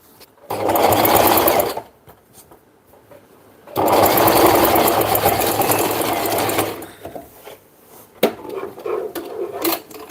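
A sewing machine stitches in two long, steady runs, loud and close, with a clattering pause between them and a few knocks and handling sounds afterward.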